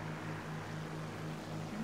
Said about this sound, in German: Ich fliege hier die SB2 M103.